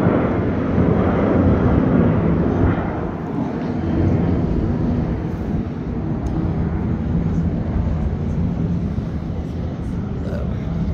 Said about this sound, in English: There is a plane coming, or leaving.